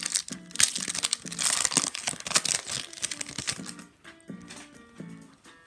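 A basketball trading card pack is torn open and its foil wrapper crinkles and crackles continuously up close for several seconds, loud at first, then thinning to softer rustles and card handling.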